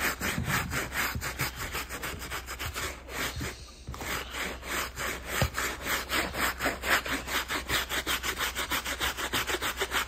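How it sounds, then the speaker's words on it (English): A rough brush scrubs the undersole of a shoe during cleaning, a steady rapid back-and-forth rasping with one brief pause, close and loud with no talking. "We're using the rougher brush for the undersole."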